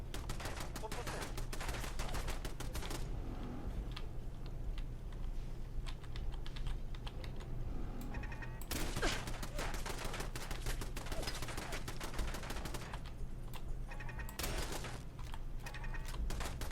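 Automated turrets firing in Fallout 4 during survival-mode play, rapid clattering bursts of gunfire in several spells, loud over a steady low game hum.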